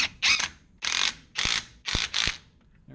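A ratchet tightens a strut mount nut on a 2002–2006 MINI Cooper R50/R53, with about five quick, close bursts of rapid clicking, the last ones separated by sharp knocks.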